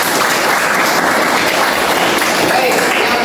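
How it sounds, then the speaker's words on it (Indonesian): A classroom of pupils claps together during a lesson, a loud, dense, steady round of applause from close by that lasts the whole moment. "Baik, tepuk tangan dulu buat."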